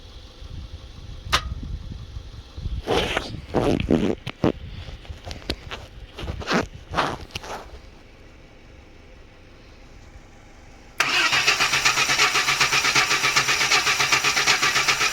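A Chevy S10 with a 4.3L engine that cranks but will not start: scattered clunks and knocks come first, then the starter grinds in a loud, sustained, steady crank for the final few seconds.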